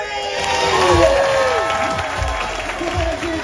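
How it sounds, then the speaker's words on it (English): A cruise ship audience on a Disney Dream pirate night applauds and cheers a winning couple of a game show, loud sustained clapping with shouts and whoops from a crowd filling the room. "Give a huge round of applause"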